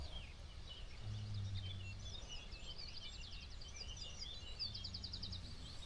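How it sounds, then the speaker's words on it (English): A song thrush sings repeated bright, trilling phrases from nearby trees in the far north of Scotland over a low steady outdoor hum, with short pauses between bursts. "Song thrush in the trees over here."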